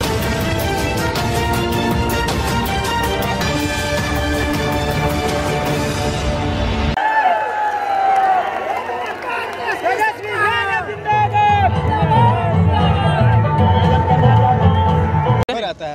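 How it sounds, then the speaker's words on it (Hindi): Dense crowd noise at an outdoor Bihar election rally in Hisua, with loud music and amplified sound at first, then a broad babble of many voices and shouting close by. "देखिए जिस तरह का भीड़ है उसमें बात करना बहुत मुश्किल है"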